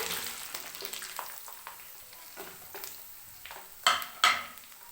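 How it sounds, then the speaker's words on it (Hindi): Vegetables dropping into a hot pan of spices for vegetable pulao, a close, steady sizzle and frying hiss with light stirring and a couple of sharp metallic clanks from pan and utensil near the end. "अब हम इसमें डालते हैं सब्जियाँ।"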